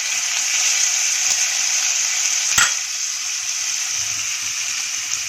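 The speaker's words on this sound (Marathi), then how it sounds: "तेल सुटेपर्यंत 1-2-3 मिनिटं परतूया" Onion, grated tomato and spice masala sautéing in hot oil in a home kitchen pan give a steady close sizzle, with a single louder spatter or stir crackle partway through.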